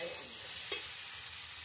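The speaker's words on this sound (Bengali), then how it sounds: "আর একটু নেড়ে চেড়ে কষিয়ে নেবো।" Taro (kochu) curry with slit green chillies cooks down in a pan, giving a quiet, steady sizzle with one brief spoon scrape as it is stirred.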